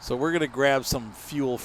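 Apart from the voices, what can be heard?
No distinct noise like a dog, phone or traffic.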